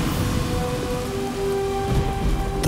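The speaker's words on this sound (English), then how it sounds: "The biggest rainstorm in Texas history." Heavy rain pours steadily in a storm with rumbling thunder, a dense loud wash of rainfall alone throughout.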